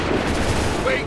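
Soldiers fire a volley in Assassin's Creed 3, a dense burst of musket gunfire that sounds like one continuous, loud crackle of shots.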